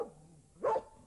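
A single short dog bark from a computer game's sound effects, a brief synthetic yelp standing alone against a quiet background.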